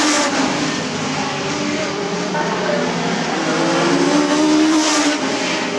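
Stock cars race at Arlington Stadium, a loud, continuous roar of several engines under load, with rising and falling revs and an occasional tyre squeal close to the track.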